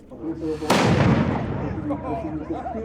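A single loud cannon boom erupts abruptly at an outdoor city day celebration in Zhytomyr, its heavy rumble slowly fading while faint voices continue in the background.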